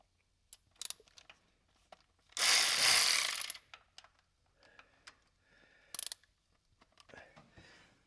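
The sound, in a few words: ratchet wrench removing 13 mm bolts from GM TBI unit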